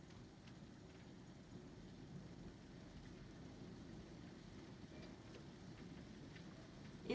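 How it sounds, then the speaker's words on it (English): Heavy rain pouring down outdoors, a steady dense hiss of drops with low rumbling underneath, continuous and fairly close throughout, with no voices. "It literally just started pouring."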